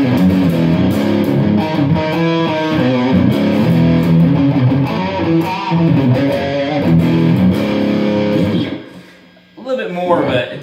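Electric guitar, a humbucking Strat through a Blackstar HT Club 40 MKII tube amp's overdrive channel, plays chords and riffs, loud and gritty with sustained notes, close up, ending in a brief dip before picking up again.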